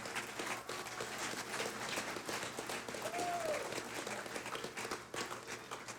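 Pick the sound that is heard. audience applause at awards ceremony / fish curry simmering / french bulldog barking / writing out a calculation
audience applause at awards ceremony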